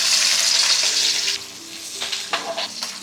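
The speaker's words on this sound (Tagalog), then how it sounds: "Pipirituhin natin para mas lalong sumarap. Konting mantika lang kasi isang piraso lang naman lulutuin natin." A single piece of paksiw galunggong fish fries in a little oil, starting with a loud hissing sizzle that settles into quieter crackles and small pops close by.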